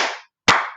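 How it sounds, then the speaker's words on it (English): Two sharp claps from a class ring out in quick succession, close and crisp, each fading quickly, with a short silence between them. "2 claps for Ava."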